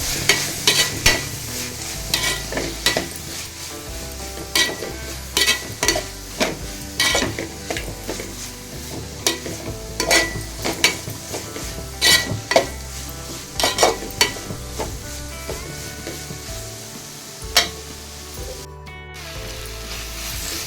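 A spoon scrapes and clinks rhythmically against a frying pan while stirring vada curry masala over a steady background sizzle, with frequent sharp metallic taps throughout.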